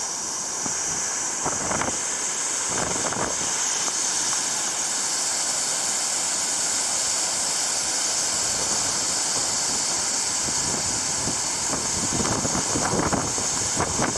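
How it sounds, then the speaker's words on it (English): A big waterfall on an Alpine mountain hike near the Swiss-Italian border gives a steady, broad rushing roar, mixed with wind buffeting the microphone, with no talking. "that's a big waterfall."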